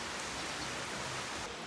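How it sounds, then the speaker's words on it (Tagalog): Heavy rain lashes down with wind at Bulabog beach on Boracay island, a dense, unbroken roar of steady downpour for the whole short stretch. "Lakas ng ulan."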